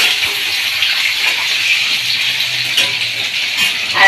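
Hot water pours steadily from a tap for a morning bath at home, a loud, continuous rushing splash that holds even throughout, with no talk.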